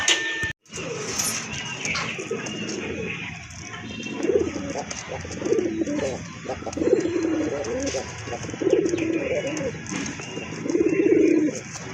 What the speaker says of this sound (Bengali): চলেন কবুতরগুলো আপনাদেরকে দেখাই